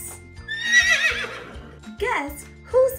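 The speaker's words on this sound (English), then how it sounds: "That's right, it's the horse." A horse neighs in a descending, quavering whinny, followed by shorter snorting calls, heard between a woman's spoken lines.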